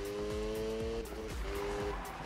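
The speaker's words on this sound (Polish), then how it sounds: "udało się wejść w dość ciekawy drift" A Mazda RX7 drifts in Need for Speed 2015, its tires squealing in a loud sustained screech over a droning engine with repeated gear-shift drops, close and continuous, no talking.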